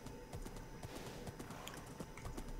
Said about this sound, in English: my horse has gone all the way over here